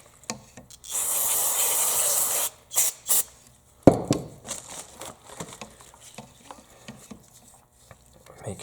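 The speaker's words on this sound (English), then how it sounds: "And I'll hose this whole thing down again." Spray cleaner hoses down a Toro CCR 2000 carburetor in a burst of hissing spray lasting over a second, then shorter spurts, followed by scattered clicks, rubbing and handling noises.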